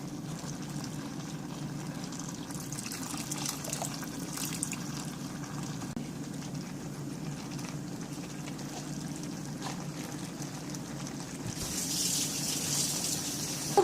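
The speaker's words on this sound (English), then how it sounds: "and I'm going to fill it with water." Tap water gushes steadily into an emptied 6-ounce tomato paste can in a home kitchen while spaghetti meat sauce is being made, a continuous close splashing rush that swells briefly near the end.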